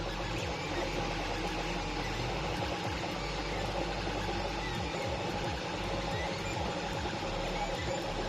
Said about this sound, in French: Je vous laisse écouter le bruit d'une imprimante 3D